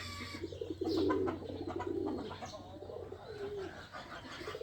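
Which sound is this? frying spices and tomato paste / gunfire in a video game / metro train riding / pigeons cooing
pigeons cooing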